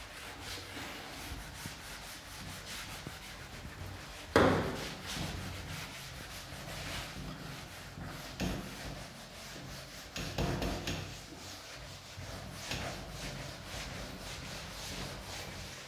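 Board being rubbed clean during an English grammar lesson, a steady scraping swish running through the whole stretch with a sharp knock partway in and a few louder strokes later.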